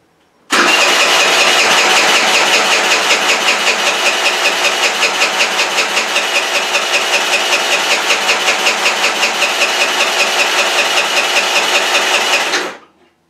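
A small scooter engine with its carburetor filling with fuel catches and runs loud and close for about twelve seconds, a fast rhythmic putter with slight revving pulses, ending abruptly.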